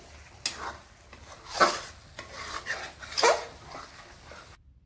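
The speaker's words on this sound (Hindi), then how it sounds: "तो हलवा को हम इस तरह से चलाते रहेंगे" Turmeric halwa being stirred in a kadhai, soft scraping and sizzling strokes coming in irregular bursts, close and fairly quiet, with no talking.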